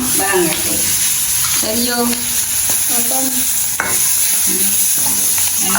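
Onions and garlic frying in oil in a Jaffna home kitchen give a steady, loud sizzle with occasional scraping stirs, while a voice talks intermittently over it.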